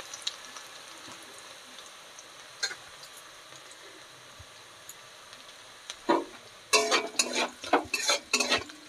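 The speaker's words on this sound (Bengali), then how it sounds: "ভালো করে ভাজা হোক আমার পেঁয়াজটা" Sliced onions with turmeric and salt fry quietly in a pan, then a burst of scraping, clattering spatula stirs near the end over the soft sizzle; no one speaks.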